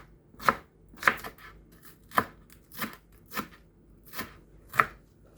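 A knife cutting vegetables for a colorful salad on a board, eight crisp, close chops in a steady rhythm about half a second apart, with quiet pauses between them.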